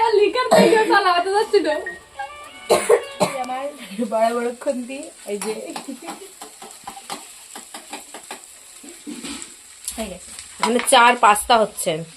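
Food fries in a pan while someone cooks. A soft sizzle and occasional clinks of utensils sit beneath lively conversation and laughter from several people.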